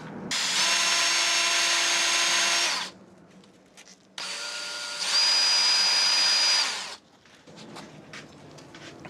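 A power tool tightening brake bolts on a Honda CBR motorcycle whirs in two long, loud bursts of about two and a half seconds each, close up, with brief quiet between.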